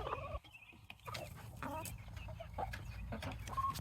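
Backyard chickens in a coop, including a broody hen, cluck and squawk close by in short overlapping bursts, with a person's voice in the background.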